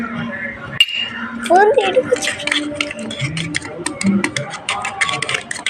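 Food with oil, salt and chili is stirred in a pan, with a steady run of close clinks and scrapes of utensil on metal under a voice talking throughout.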